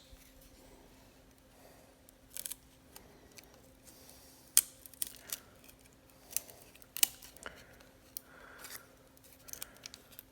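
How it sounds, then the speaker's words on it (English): Repeated close snips of scissors cutting thin wood in irregular bursts, with light handling clicks and rustles between cuts; nobody speaks. "So I can cut them out with my scissors."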